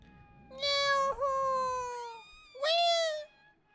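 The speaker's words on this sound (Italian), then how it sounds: "Sono dei gatti questi, non sono dei folletti della Cornovaglia." Two loud, drawn-out cat meows from a Harry Potter video game, each one whining and slightly wavering and separated by a short gap, with a faint low murmur under the first.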